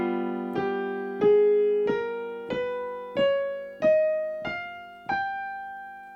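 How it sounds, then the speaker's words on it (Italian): An altered scale plays one note at a time, eight plucked or struck tones rising steadily at an even pace, each clear and decaying before the next, with nothing else heard. "Questo è il suono della scala alterata."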